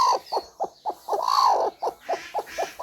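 A brooding hen sitting on her eggs in a rural village, giving a close, rhythmic series of about a dozen short low clucks with one longer drawn-out call in the middle.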